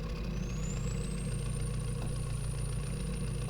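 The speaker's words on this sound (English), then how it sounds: "So that's the sound of the Hilux." Toyota Hilux truck engine from a video game mod, a steady, even drone with a low throb and a faint rising whistle above it, continuous and moderately quiet.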